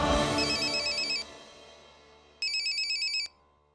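An electronic telephone ringtone trills in two short bursts separated by a pause, close and clear against quiet, with music fading underneath.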